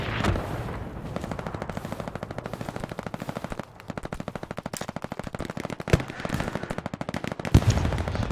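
Sustained WW2 machine gun fire from an MG34, MG42 or M1919 Browning in the Hell Let Loose game, rapid rhythmic bursts of close, loud shots repeating almost continuously with only brief gaps.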